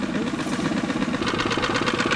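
The small outboard engine of a dinghy runs steadily at close range, a loud, even motor drone with a rapid mechanical pulse and no voices over it.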